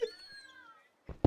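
Cat meow in the video game Tortilla Land, a single drawn-out falling cry at close range, followed by two short, loud bursts of noise.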